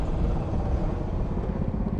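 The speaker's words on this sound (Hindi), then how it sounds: "ये सामने हेलीकॉप्टर यहाँ पे नज़र आ रहे हैं" Helicopters flying over the harbor area of San Diego give a steady, loud broadband rumble that holds evenly throughout, with no talking.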